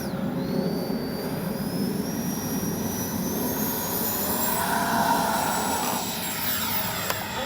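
A Freewing 80mm F-22 RC jet with twin electric ducted fans and flaps set for takeoff makes a loud, steady high-pitched whine and rushing roar that rises slightly in pitch as it accelerates.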